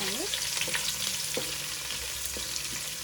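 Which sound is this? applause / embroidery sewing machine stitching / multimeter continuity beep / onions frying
onions frying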